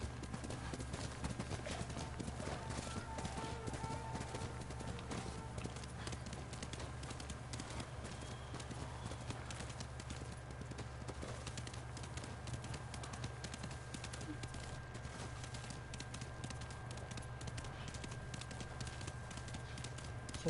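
Horse hooves clip-clop in a steady, rhythmic trot in the game Ghost of Tsushima, the even beat running throughout at moderate loudness over a constant background bed.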